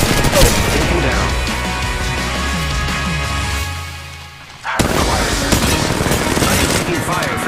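Sustained, loud gunfire in an Apex Legends Mobile battle near Skull Town, with dense overlapping shots and rattling bursts. The firing briefly fades, then erupts again with sharp cracks.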